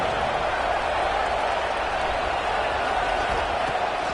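A stadium crowd roars loud and steady after a big third-down play in a college football game between SMU and Arizona State, with broadband cheering and scattered clapping filling the space without a break.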